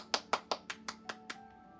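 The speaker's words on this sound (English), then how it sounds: "Give yourself a clap" Seven sharp hand claps in a steady, slightly slowing rhythm during a seated falls-prevention exercise session, crisp and close, with no talking.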